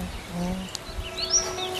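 Faint birds chirp and trill in the distance over a steady outdoor background hum in a Qiang village in China, a few short rising calls scattered through.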